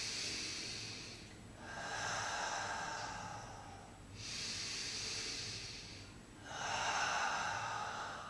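Slow, deep breaths during a prenatal Pilates hold, three long airy inhales and exhales close to the mic, steady and unhurried with no talking.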